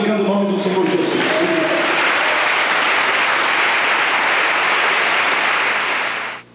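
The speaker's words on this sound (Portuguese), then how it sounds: "E você sempre dando palmas, glorificando o nome do Senhor Jesus." A church congregation applauds in praise, a loud, dense, sustained clatter of many hands that starts just after a voice is heard at the beginning and cuts off abruptly at the end.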